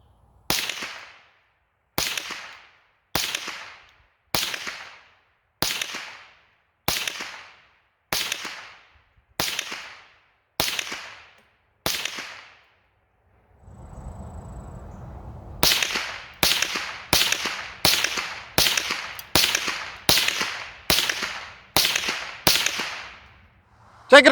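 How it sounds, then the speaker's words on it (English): Rifle shots from an Elite 22 and a Browning Buckmark Carbine firing Winchester Expert .22 Long Rifle ammunition: a slow, even series of sharp cracks, a short noisy pause, then a faster string of shots. "Going to start out with some Winchester Expert 22 in the Elite 22, then again move on to the Browning Buckmark"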